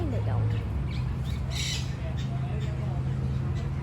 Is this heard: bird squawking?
yes